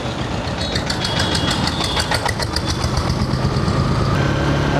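Motorbike engine running while riding, a loud steady drone with rattling and rushing wind noise close to the mount, and no talk.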